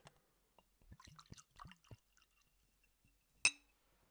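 Water poured into a glass in a quiet room, a run of soft gurgling drips and trickles, then a single bright glass clink near the end.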